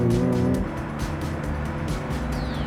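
A Suzuki Cappuccino kei car with individual throttle bodies, its small engine revving close by with a raspy, rising-and-falling note and some road and tire noise.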